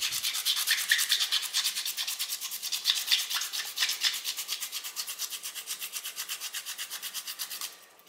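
Aluminum foil scrubbed back and forth against rusty chrome, a steady rapid rhythm of close, hissy rasping strokes that continues for several seconds before slowing and stopping, with no talking.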